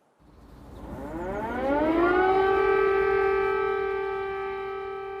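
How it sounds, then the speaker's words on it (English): An air raid siren wails over Kyiv during the 2022 full-scale invasion, rising steeply in pitch from silence and then holding a loud, steady, sustained tone. "Air raid sirens in Kyiv, signalling that the full-scale invasion of a European country in the year 2022 was well underway."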